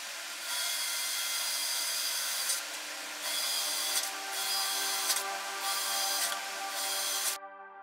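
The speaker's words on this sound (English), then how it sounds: "Made the holes for the knobs to poke out of." A tool cuts holes for amplifier knobs in a DIY Bluetooth speaker enclosure, close steady grinding in several sustained bursts with short dips between, stopping abruptly near the end.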